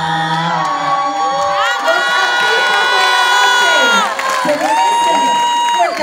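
Crowd of schoolchildren cheering, shouting and applauding at a school performance, loud and lively, with whoops and a sustained musical tone running under the noise.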